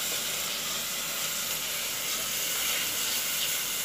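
Eggplant and drumstick pieces sauté with tomatoes in a hot pan for kara kuzhambu, producing a steady, loud hissing sizzle that stays even throughout with no talk.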